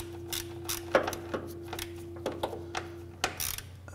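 A hand ratchet tightens radiator mounting bolts on a 2009–2015 Honda Pilot, producing short, quiet bursts of close mechanical clicking with brief pauses between strokes over a low steady hum.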